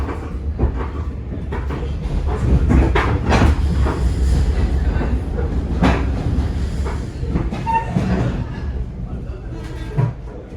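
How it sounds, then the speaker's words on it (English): A train on the line to New Haven rumbles steadily with rattling and clattering carriage sounds, close and fairly loud, while voices talk over it. "This is the train to New Haven"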